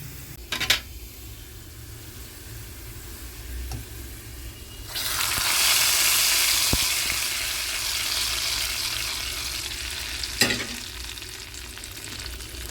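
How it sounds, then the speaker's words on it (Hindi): Browned onion tadka poured into chana dal with mutton, a Lucknowi degi-style dal gosht, bursting into a loud, sustained sizzle midway that slowly fades, with a few sharp clanks of pots and utensils before and after. "तो चलिए हम इसको दाल में डालते हैं, तड़का लगाते हैं फटाफट से।"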